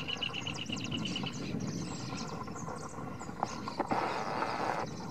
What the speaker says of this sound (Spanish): ahora lo vamos a mostrar con un trotecito